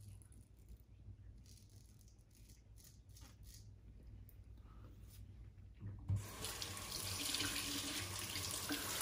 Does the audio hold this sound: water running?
yes